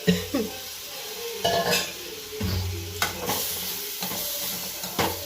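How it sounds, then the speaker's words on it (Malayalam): Chopped tomato sautéing in a pan for a chicken roast, a steady sizzle broken by repeated scraping stirs of a spoon against the pan, close and moderately loud, with no talking. "തക്കാളി നന്നായിട്ട് വണക്കിയെടുക്കുക."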